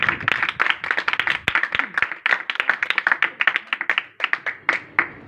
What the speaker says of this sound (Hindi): उसी के लिए एक बार जोरदार ताली है।